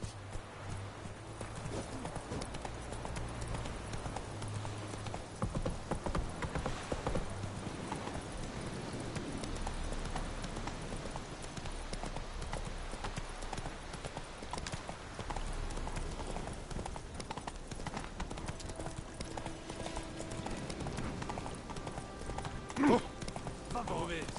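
Horse hooves clip-clop steadily through a long stretch of riding in Witcher 3, a continuous rhythmic trot beneath music and ambient game sound, with a brief whinny-like accent near the end.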